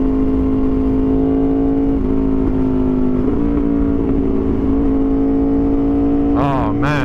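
Aprilia RSV4 Factory motorcycle (2023) riding past, a loud steady engine drone with shifting pitch as it revs, briefly rising at the end, with voices faintly underneath.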